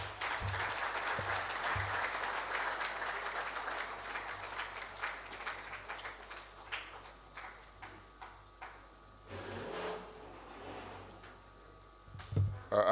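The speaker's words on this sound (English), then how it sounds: "Another round of applause" Audience applause at an international trade seminar, a sustained round of clapping from a seated crowd that thins out after about six seconds into scattered claps and faint room noise.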